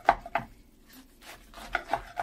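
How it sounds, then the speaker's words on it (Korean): A knife chops blanched butterbur greens into bite-size pieces on a cutting board, with about six crisp, close taps in an uneven rhythm and no talking. "먹기 좋은 크기로 썰일게요"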